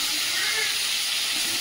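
Tangra fish fry in hot oil in a pan, giving a loud, steady broadband sizzle and hiss that holds without break.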